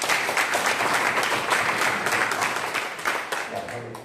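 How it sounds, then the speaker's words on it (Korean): Congregation applause fills a church, a dense, sustained wash of many hands clapping at close range that eases off slightly toward the end. "우리 진심으로 하나님께 할렐루야 영광의 박수를"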